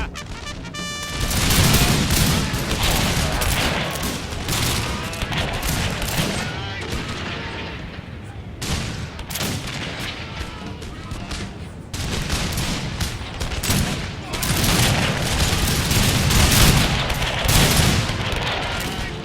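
Musket volleys in the Napoleon Total War video game, dense crackling fusillades of gunfire with booming shots, loud and sustained, easing briefly in the middle before another heavy burst.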